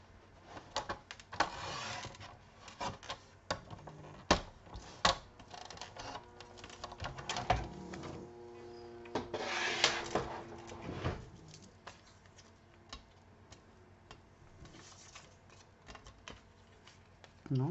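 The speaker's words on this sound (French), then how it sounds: "Maintenant, il faut que je le coupe dans ce sens-là." Scissors or a cutter working through card stock for a handmade easel greeting card, close crisp snips and rustling paper handling in irregular bursts, busiest early on and thinning to quiet shuffles toward the end.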